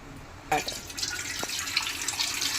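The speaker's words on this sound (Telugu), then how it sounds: "ఇందులో కొద్దిగా వాటర్ వేసుకొని పక్కన పెట్టుకుని" Water poured into a pan of marinated country chicken for biryani: a sudden splashing pour that runs on steadily for about two seconds.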